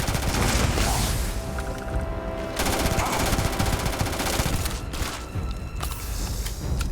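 Rapid automatic gunfire from a weapon in the video game Starfield, a dense sustained burst of shots with mechanical clatter running loud and continuous throughout.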